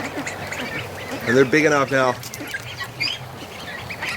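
Young ducklings in a farm pen let out a short burst of raspy quacks, close by and loud for a second or two, with someone talking over them.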